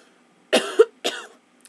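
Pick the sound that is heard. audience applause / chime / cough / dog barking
cough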